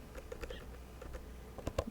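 Typing a short command on a computer keyboard, a few quiet, close key taps in an irregular burst, faint against a low background hum.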